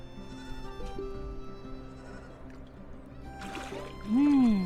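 A lamb bleats once near the end, a loud rising-and-falling cry on an organic farm in Ajman, UAE, after a stretch of quiet outdoor background noise.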